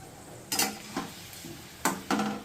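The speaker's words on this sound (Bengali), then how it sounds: "আলুর দমটার সঙ্গে মশলাটার সঙ্গে ভালো করে মিশিয়ে দিচ্ছি" A spoon stirs spice mix into fried potatoes for aloo dum in a pan, giving a few close, scraping strokes in an uneven rhythm with a faint sizzle underneath.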